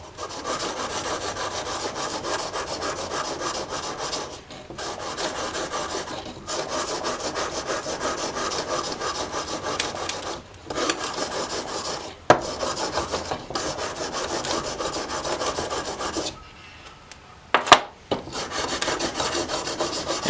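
A steel chisel rubbed back and forth on a sharpening stone, a loud continuous rasping scrape in long strokes broken by brief pauses, with a few sharp knocks as the stone is handled.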